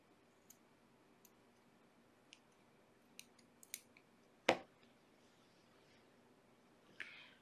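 Scissors snip off a leftover crochet yarn tail in one sharp, close cut, preceded by a few faint light clicks in a quiet room, with a soft rustle a few seconds later.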